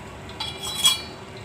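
A spoon clinks and scrapes against a bowl while beating cream (malai) for sabudana kheer, with two or three brief, light metallic taps close by.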